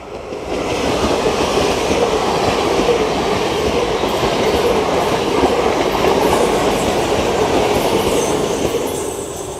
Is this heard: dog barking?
no